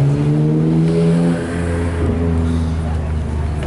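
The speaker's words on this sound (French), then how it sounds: "Une Mustang" A Ford Mustang's engine at a youngtimer car meet in Montbéliard holds a loud, deep, throbbing note, then its pitch eases down to a lower, steady rumble, close by.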